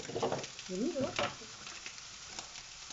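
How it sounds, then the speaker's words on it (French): Green beans browning in a frying pan, a soft sizzle with a few stirring scrapes, quiet beneath a short burst of speech early on. "on fait rissoler un petit peu là"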